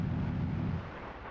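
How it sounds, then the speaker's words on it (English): A string of high-drag bombs dropped from an F-4E in a flight simulator game explodes across a target, a dense, rumbling roar with heavy low-end that holds steady, then eases slightly toward the end, with no talk. "It's a nice string of bombs."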